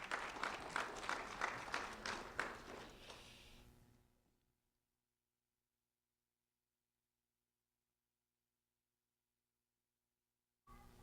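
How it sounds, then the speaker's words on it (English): Applause for a second grade student at an elementary school recognition event, a burst of clapping that fades out over about four seconds, followed by near silence. "a round of applause for Anthony Chajson, please."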